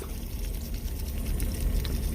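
Salmon fries in a pan on a small boat cooktop, giving a steady, close sizzle that holds at an even level throughout, with no talking.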